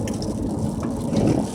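Rain falls steadily on a car during a Texas blue norther, a dense, continuous hiss and patter that stays loud and even throughout, with no voices.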